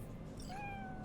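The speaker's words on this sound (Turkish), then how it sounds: "Kedi var lan." A cat in the video game Cyberpunk 2077 gives one short, rising meow, quiet against a low background hum.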